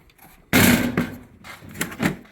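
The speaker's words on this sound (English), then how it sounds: "let me pull out the drawer here." A drawer on a tool chest holding drill bits and a drill is pulled open in one loud sliding, clattering burst, followed by a few softer knocks and rattles.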